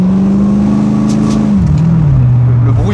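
A convertible car on its original exhaust revving, a close, loud engine drone that holds steady and then drops in pitch as the revs settle, with no talking.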